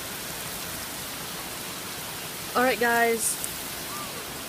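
Heavy rain pours down in a constant close-up hiss that fills the whole clip, while a person briefly speaks over it partway through.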